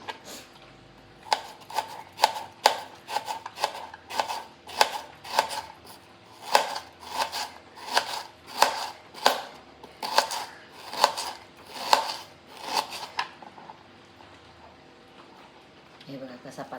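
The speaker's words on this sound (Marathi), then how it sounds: "असा पातळ कापायचा कांदा, उभा चिरून घ्यायचा." An onion being thinly sliced lengthwise with a knife for chicken dum biryani, a run of regular crisp cuts tapping against a board in a steady rhythm, close and clear, then a pause at the end, with a voice speaking over it.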